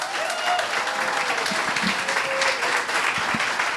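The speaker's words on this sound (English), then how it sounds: "Let's give him a round of applause" Steady applause from a live audience at a Block Party hockey event honoring player Anthony Cirelli, dense and continuous throughout with a few faint voices mixed into the crowd.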